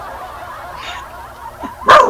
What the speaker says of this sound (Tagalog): Pati yung aso, sir. Tumahol na.